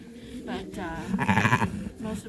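A sheep on a working farm gives a loud, wavering bleat close by, mixed with what sounds like a person's voice.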